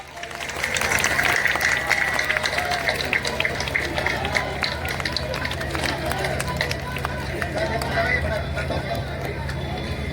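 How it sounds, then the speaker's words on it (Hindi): Crowd applause at a large outdoor political rally on a high school sports ground, heard as a dense, steady wash of clapping with crowd hubbub that carries on for the full ten seconds. "ताली बजा के अभिनंदन करना समृद्धि के लिए"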